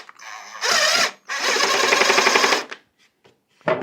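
A power drill drives deck screws into wood in two close, loud bursts of whirring with a short pause between, then a brief restart at the end.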